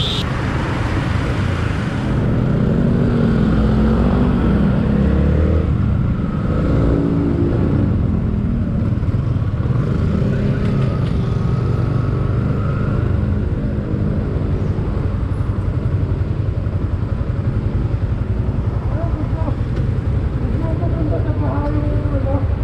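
A 2020 Yamaha Sniper 150 motorcycle is ridden on the road, its engine droning and shifting pitch with throttle and gear changes over steady wind and road noise, with a rider talking at times.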